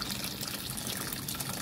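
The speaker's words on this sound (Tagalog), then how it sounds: "Ayan, lagyan natin ng kunting tubig." A little water is poured into a pot of mussel soup, giving a steady, close, splashing gush that runs unbroken with no talking.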